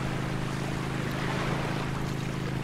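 A small boat in a fishing video game cruises across water, a steady rushing wash of hull and waves with a low engine drone, continuous and fairly quiet with no talk.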